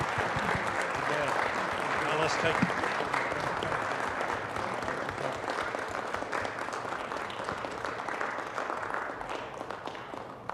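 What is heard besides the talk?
applause for a retiring planning commissioner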